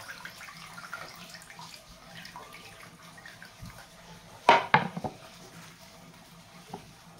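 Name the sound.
draining water from soaked chopped spinach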